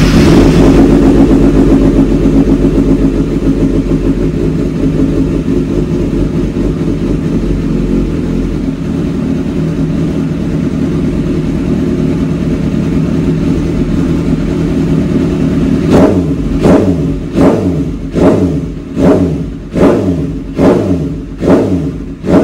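A Kawasaki ZX636 sport motorcycle engine idling loudly and close, then blipped through a rapid series of about seven sharp revs in a steady rhythm, with no talking.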